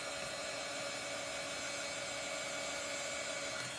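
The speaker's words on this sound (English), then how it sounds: "my dryer is not a dryer. It's a heat gun." Heat gun blowing hot air to dry chalk paint, a steady airy roar with a faint motor whine, constant and close from start to finish.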